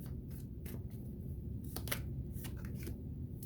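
A tarot deck is shuffled and cards are drawn, quiet papery riffles and slides coming in short bursts over a low background hum, with no talk.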